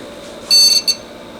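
A retro computer system gives a short high electronic beep as it powers on, one sustained tone followed by a brief second blip over low background hum.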